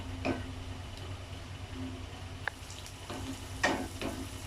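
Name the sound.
onion and capsicum frying in butter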